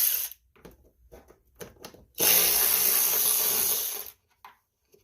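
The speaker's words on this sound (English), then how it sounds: "there's a bolt that needs to be taken out, and that's a 1/4 inch socket" A bolt is removed with a 1/4 inch socket on a Craftsman T2200 riding lawn mower: a few quiet handling knocks, then a loud, steady whirring burst of about two seconds that cuts off sharply.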